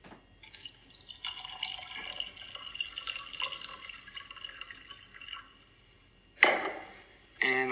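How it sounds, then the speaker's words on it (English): Tap water runs from a faucet into a container holding a dry green tea bag, a thin splashing stream that starts, continues, then stops, followed by two short louder gushes near the end. "So I'm going to put the dry tea bag in here and we're going to start with tap water."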